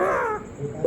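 A pet parrot imitating a crow, giving a single short, harsh caw up close that fades out, followed by a brief sharp sound at the very end.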